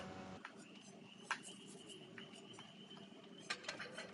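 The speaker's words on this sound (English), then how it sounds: "Oh, I hear crickets." Crickets in the video game Dead by Daylight chirp faintly in steady thin trills beneath a quiet ambient bed, with a few soft clicks and taps.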